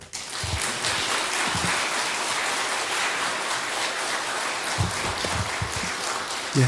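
A church congregation applauds as the elder pastor comes forward to the pulpit, a steady wash of clapping that holds for several seconds, with a few low voice-like sounds mixed in.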